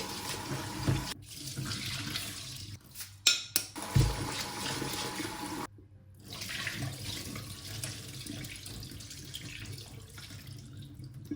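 Water rinsing sushi rice in a pot, sloshing and splashing near and loud in uneven bursts, with brief pauses where the water is tossed out.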